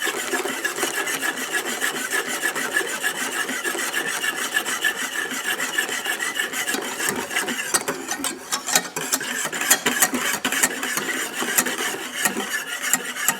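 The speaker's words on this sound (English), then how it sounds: "they say only go one way when you're whipping" Pastry cream mixture is whisked by hand in a bowl, a steady scraping and rubbing that stays close and continuous for several seconds, quickening a little toward the end.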